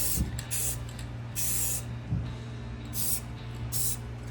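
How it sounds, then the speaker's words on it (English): Short hissing bursts from a spray can painting model railroad track, five of them at a steady pace, close and fairly loud over a low background hum. "So we're gonna just start to spray,"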